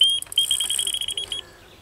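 Electronic carp bite alarm sounding a rapid run of high, sharp beeps during a rainy surface-fishing session for carp on a lake, close and fairly loud, stopping after about a second and a half.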